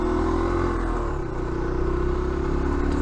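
Warm motorcycle engine running close by at a steady idle, a continuous low rumble with mechanical clatter and a slight dip and recovery in level midway.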